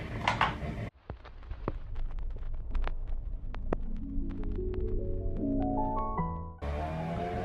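Motorbikes passing outside a window: a low engine rumble swells and builds, rising in pitch as revs climb, loud and continuous through most of the stretch before cutting off abruptly.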